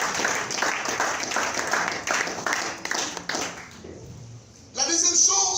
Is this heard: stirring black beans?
no